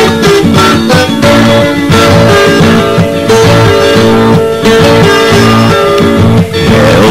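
A viola caipira, the Brazilian ten-string folk guitar, strums a dense, bright rhythmic pattern, loud and continuous with full ringing chords throughout and no talk.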